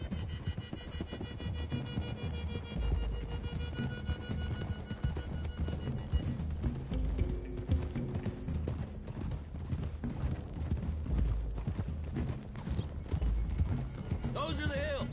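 Rhythmic hoofbeats of galloping horses pound continuously in a PS4 game, with a whinny or two and voices in the mix, over a busy game soundscape.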